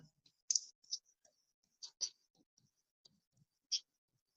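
Marker or chalk writing on a classroom board during a physics lesson: a handful of short, sharp strokes and taps spaced irregularly, quiet and close, with no talk.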